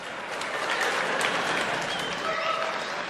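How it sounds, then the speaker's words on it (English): Applause from an audience at a live evening talk, dense and steady clapping that stays loud and even throughout, heard close with no voices over it. "it's lovely to hear the applause"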